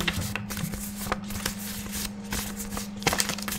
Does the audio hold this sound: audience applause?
no